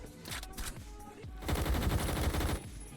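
Pistol shots ring out in a Roblox game, a few scattered cracks at first, then a quick burst of rapid shots, loud and close, with no talking over them.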